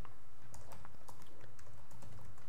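Keys clatter in quick, irregular bursts of typing on a computer keyboard, close and fairly quiet over a low steady hum, with no voices.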